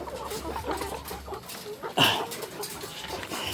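Chickens cluck softly in the background, with one sharper, louder squawk near the middle, and a few low farmyard noises around them.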